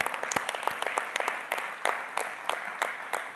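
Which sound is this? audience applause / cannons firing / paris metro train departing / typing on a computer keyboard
audience applause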